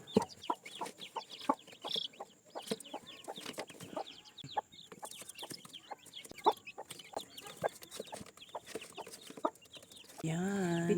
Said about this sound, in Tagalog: Ayan, nag-ingay na ang mga manok.